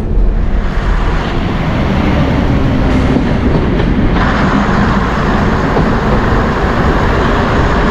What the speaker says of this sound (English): The DMU set pulls into the bay platform.